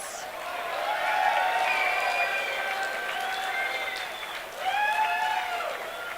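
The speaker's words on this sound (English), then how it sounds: "James deserves an extra round of applause" Audience clapping at the Tatts Finke Desert Race 2024 presentation, a sustained round of applause with a short dip before swelling again, moderately distant in a large crowd.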